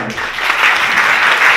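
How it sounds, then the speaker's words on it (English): A conference audience claps loudly in a short, dense burst of applause for the event organizers, building quickly and holding steady. "Can we give like a huge round of applause for these conference organizers who do this for the first time?"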